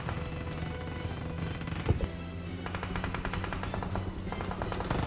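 Rapid automatic gunfire in PUBG Mobile, bursts of fast, close, sharp shots with brief pauses, over a steady hum of game background sound and no speech.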